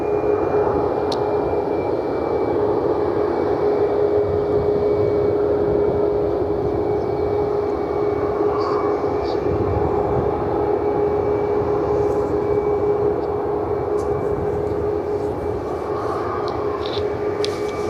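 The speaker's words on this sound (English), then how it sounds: "American 737 ready to go." American Airlines Boeing 737 jet idling on the runway at Cleveland Hopkins before departure, a steady loud engine roar with a constant whine running throughout, no talk.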